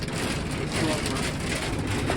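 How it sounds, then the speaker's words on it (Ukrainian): Heavy rain pours down on farmland during a thunderstorm in a steady, dense hiss with a low rumble underneath, continuous and loud throughout. "шурує дощ грубечий"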